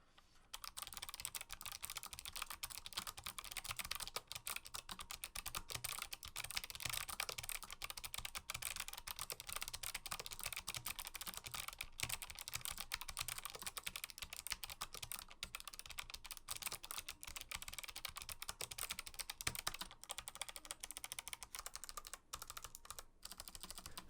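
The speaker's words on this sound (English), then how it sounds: "the sound of the click, as you guys will hear in just a second, sounds really good as well" Fast, continuous typing on a Hexgears Venture low-profile mechanical keyboard with ABS keycaps gives dense, close, crisp clicks at a steady pace for over twenty seconds, with no talking.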